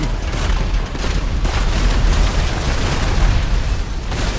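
Gunfire and explosions from the game GTA 5, with military trucks in the scene: a dense, loud, continuous roar of blasts and shots with no break and no talk.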